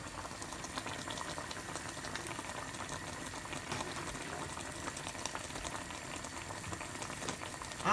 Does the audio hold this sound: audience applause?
no